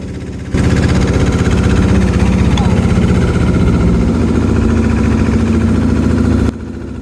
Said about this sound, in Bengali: আমাদের সাথে দেখেন আরও অনেক ট্রলার যে যার দিকে চলে যাচ্ছে